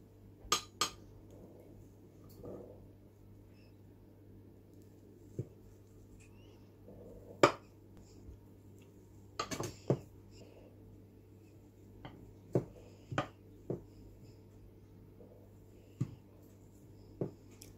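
A knife and cutlery cut a piece of lemon tiramisu, giving sparse, faint clinks and taps of metal against a dish in a quiet room.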